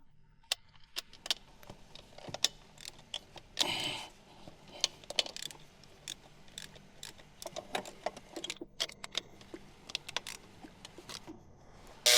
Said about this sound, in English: using a 14mm socket, remove the turbo oil feed line bolt